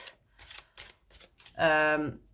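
A tarot deck with a matte antique finish is shuffled in the hands, a short series of soft riffling bursts followed by a louder sustained riffle, with light talk nearby.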